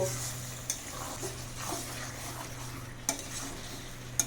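Mutton stir-fried for kosha in a pan, a low steady sizzle broken by a few sharp metallic spatula knocks against the pan, close and fairly quiet with no talking.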